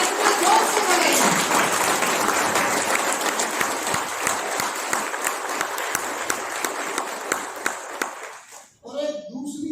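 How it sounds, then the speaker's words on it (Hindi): An audience at a journalism event claps loudly in welcome, a thick, continuous burst of applause with sharper individual claps near the end before it abruptly stops and a voice begins speaking. "हाथ से ताली बजाने में जरा कष्ट हो रहा होगा, बजाना तो स्वागत में जोर से बजाएगा"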